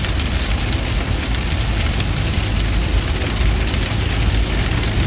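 Heavy rain falls during a severe storm in Kansas and Oklahoma, a dense, loud, unbroken roar of drops hitting surfaces close by, with no voices.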